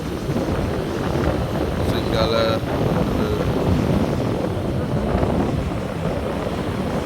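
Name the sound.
strong wind on a rough sea beach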